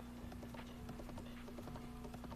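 Horse hoofbeats from riding in the video game The Legend of Zelda: Breath of the Wild, a steady clip-clop gallop running throughout over a constant game background hum.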